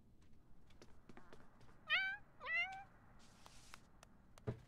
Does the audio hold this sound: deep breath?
no